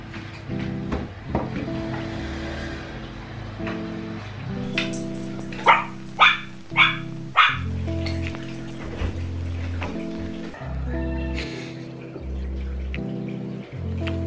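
Dog barking indoors, a run of four loud, sharp barks in quick succession midway, with household clatter and low thumps around them.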